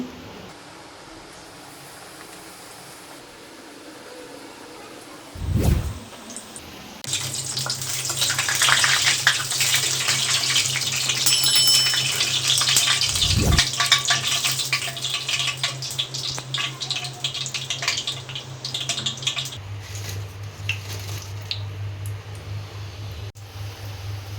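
Steady hiss and bubbling of raw banana bajji fritters frying in hot oil, a sustained close sizzle that swells after a couple of dull knocks, with no talking.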